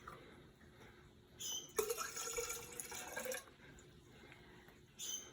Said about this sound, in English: we're gonna start by putting some water, and it's always best to do it in a clear container